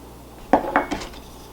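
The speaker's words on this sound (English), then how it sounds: "I'm going to stir that around a little bit" A spoon scrapes and clinks around a bowl as ingredients for muesli bread are stirred, three or four quick close knocks in a short burst against a quiet background.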